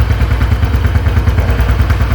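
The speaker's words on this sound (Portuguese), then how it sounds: "Se você perceber que o seu motor começou a bater desse jeito aqui" A Honda Bis small motorcycle engine idles close by with a rhythmic mechanical knocking and clatter from a worn cam chain tensioner, a loud, steady, repeating tick-thump pattern with no talking over it.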